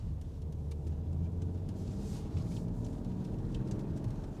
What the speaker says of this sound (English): the engine has to kick down and use all the gears to be able to work